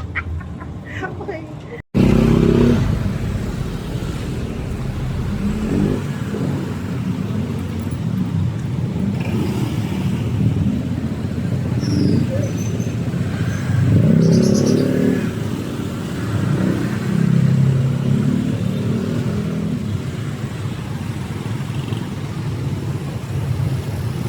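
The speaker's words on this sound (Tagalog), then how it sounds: "Daming traffic dito guys, no? Sa Moonwalk." Busy road traffic at Moonwalk in BF Parañaque, with cars and motorcycles passing nearby in a steady rumbling wash of engine noise and occasional revving swells, while people talk over it.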